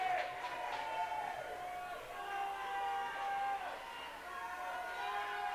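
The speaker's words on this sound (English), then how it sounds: "The crowd making some noise." Crowd noise at a college hockey game between Toledo and Concordia Ann Arbor fills the arena, a steady roar with scattered whoops and whistles running under a play-by-play announcer's voice throughout.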